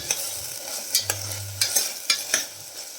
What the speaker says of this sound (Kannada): ವೆಜಿಟೇಬಲ್ಸ್ ಹಾಕಿ ಇದನ್ನು 1 ನಿಮಿಷಗಳ ಕಾಲ ಫ್ರೈ ಮಾಡಬೇಕು.